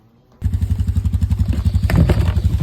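A four-wheeler ATV engine starts up and runs close by with a steady, loud, pulsing rumble, rattling and growing rougher toward the end, with no talking.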